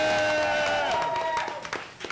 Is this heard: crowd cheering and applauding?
yes